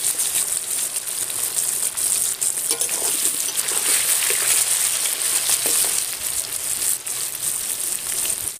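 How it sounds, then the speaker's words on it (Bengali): Pieces of young jackfruit sizzle in hot white oil, a steady close hiss with bubbling crackle and occasional stirring knocks, loud and unbroken until it cuts off at the end. "দুবার ভাজতে হবে, একবারে ভাজা হবে না।"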